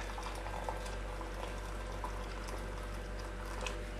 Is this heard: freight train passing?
no